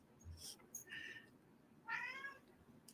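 A house cat meows several times close by, short harmonic cries separated by pauses against a quiet room.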